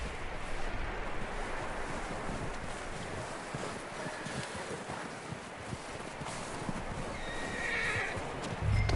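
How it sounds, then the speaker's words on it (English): A horse neighing amid steady hoofbeats and broad rushing wind or surf noise, continuous and fairly distant, with a louder thump near the end and no talk. "What about that horse?"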